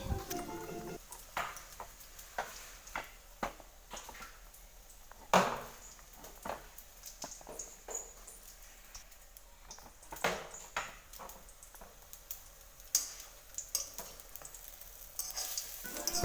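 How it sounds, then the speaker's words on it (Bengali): Lentil fritters are dropped one at a time into hot oil, giving a faint, steady crackling sizzle broken by sharp clicks and ticks of a utensil. "এক এক করে এই যে বড়াগুলো দিয়ে দিচ্ছি তেলের মধ্যে।"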